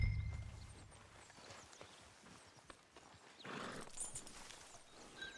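In Red Dead Redemption 2, a horse's hooves clop at a walk, and a short whinny or snort rises near the end. The whole scene is quiet and somewhat distant.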